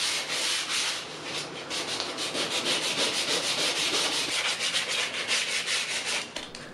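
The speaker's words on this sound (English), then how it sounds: "I just sand everything by hand here" Sandpaper rubbed by hand strips old finish from vintage cane stools down to bare wood, a steady close rasping scrub with a quick back-and-forth rhythm and no talk.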